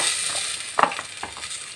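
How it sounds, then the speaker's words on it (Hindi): Moong dal and vegetables such as cauliflower, carrot and potato frying in a pan, a steady close hiss of sizzling oil with a few scraping stirs breaking through partway. "अच्छे से फ्राई कर लेंगे, जो कच्चा स्मेल है वो निकल जाएगा"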